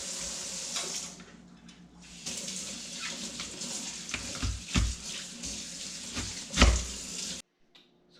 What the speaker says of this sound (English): We're just going to core them, rinse them off and core them.